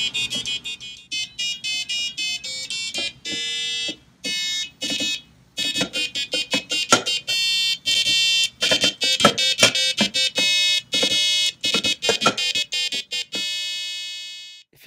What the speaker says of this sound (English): The Arduino then plays sound based on this information.